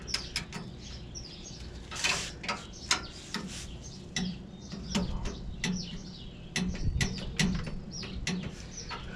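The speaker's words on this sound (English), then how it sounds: "this torque wrench. I think it still works good." A roughly twenty-year-old torque wrench tightens a QA1 front sway bar bolt on a 1971 Dodge Challenger R/T, giving rapid close ratcheting clicks in short irregular bursts.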